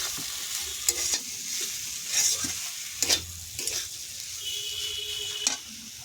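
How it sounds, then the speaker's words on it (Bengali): Cauliflower mixture for fulkopir chop fried in a pan while being stirred, with steady sizzling and a few sharp scraping strokes of a spatula, close and moderately loud with no talking. "নাড়িয়ে নেব, মাখিয়ে নেব।"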